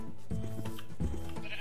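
Several short sheep bleats from a video game farm with a full flock including one black sheep, repeated in a loose rhythm at moderate loudness with no talking over them.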